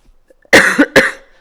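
Two quick, harsh coughs, loud and close, the second shorter than the first, in an otherwise quiet space.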